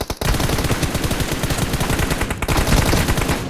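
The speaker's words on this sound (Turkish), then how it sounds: "Vurdum da öbürü de beni vurdu" Rapid automatic gunfire in PUBG, a dense burst of shots repeating steadily for several seconds, loud and close with a brief gap near the middle.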